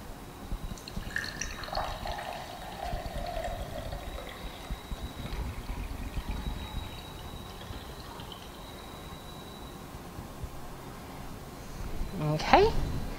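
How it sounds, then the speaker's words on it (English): Water is poured back into a container during a simple crystal-radio science demonstration, a soft trickling and splashing that rises and fades, with faint drips and a quiet background. "So now what you'll do is you'll pour that water back in."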